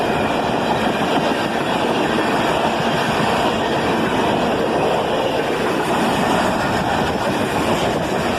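A southbound CSX freight train led by an ES-40DC and an AC-44CW locomotive rumbles past, a loud, steady roar of engines and rolling cars with no letup.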